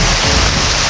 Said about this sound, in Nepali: पानी खतरनाक पानी आएको छ पुरै।